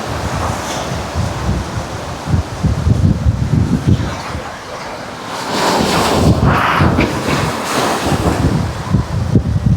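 Strong sea waves surge and break on a shore where people are fishing, a loud continuous wash of surf with heavy wind buffeting the microphone throughout.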